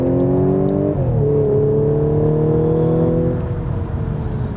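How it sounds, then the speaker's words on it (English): Supercharged Audi S4 B8.5 engine heard from inside the cabin, a steady droning hum with a clear shift in pitch about a second in and a gradual rise and fall, moderately loud and continuous without talk. "Not silent though, and you can definitely hear it from inside the cabin."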